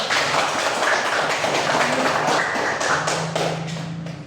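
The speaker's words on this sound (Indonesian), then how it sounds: "aplaus kepada kelompok 1" Sustained applause for a school study group in a classroom, a dense steady patter of many hands clapping at fairly close range that fades slightly toward the end.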